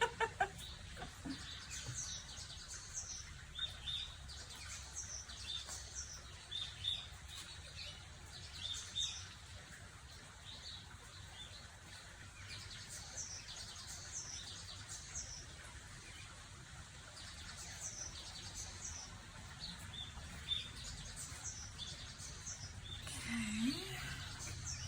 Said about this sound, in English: how many birds have got singing in the background here